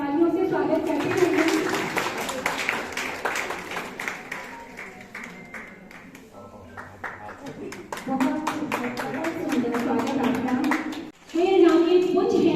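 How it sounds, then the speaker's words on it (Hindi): An audience at a Hindi book launch ceremony claps in welcome, with scattered sharp claps breaking through a spoken voice and background chatter, then a loud burst of clapping near the end. "तालियों से स्वागत करते हैं."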